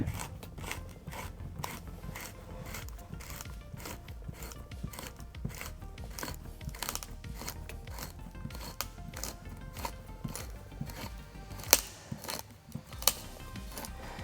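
Modeling clay and sand layers are squeezed and deformed inside a geologist's squeeze box, giving a steady close-up scraping and grinding rasp with frequent small crunchy clicks and a couple of sharper knocks near the end.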